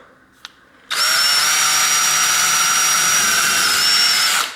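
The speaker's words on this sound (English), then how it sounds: "drill 2 holes so that I can get some screws to go through there" After a faint click, a power drill whirs up, drilling screw holes in reclaimed wood, and runs at a high, steady pitch for several seconds, loud and close, then winds down.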